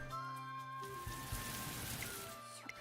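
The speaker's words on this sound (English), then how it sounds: "Why do I hear water?" Soft, steady patter of water like light rain in Umamusume: Pretty Derby, quiet beneath sustained game music tones.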